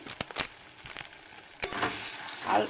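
Green chillies fry in a pan for milk paneer, giving a soft crackling sizzle broken by scraping stirs, with louder bursts of frying near the end.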